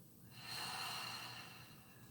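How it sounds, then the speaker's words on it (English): A single loud, long exhale through an open mouth during a yoga breathing exercise sounds close and breathy, swelling quickly and then fading over about a second and a half. "Open your mouth, exhale loud and long."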